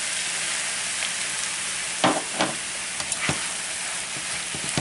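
Chicken and vegetable fried rice sizzles steadily in a hot pan, a constant close frying hiss broken by a few louder bursts and scrapes as it is stirred.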